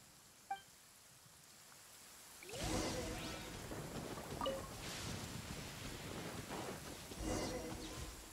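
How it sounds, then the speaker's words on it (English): Lightning storm in Genshin Impact: rain and wind rise suddenly into a steady wash, with repeated rumbling thunder rolls and gusts at moderate loudness. "Uh-oh! Lightning storm!"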